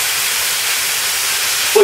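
Cubed bacon, about three-quarter-inch pieces, renders in a pan with a steady, even sizzling hiss that holds throughout, ending in a brief louder clink.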